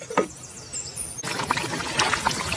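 Water poured into a pot of spicy Telangana-style mutton curry, a steady close pour with a brighter splashing fill after a brief lead-in, trickling and bubbling throughout.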